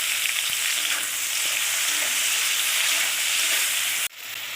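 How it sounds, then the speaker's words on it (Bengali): Prawns coated in salt and turmeric fry loudly in a pan, making a dense, constant sizzle that dips sharply near the end, then carries on. "চিংড়ি মাছগুলো এরকম করে ভেজে নিতে হবে"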